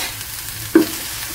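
Vegetables are stirred in a pan with a little oil, sizzling steadily up close, with one brief scrape of the utensil partway through.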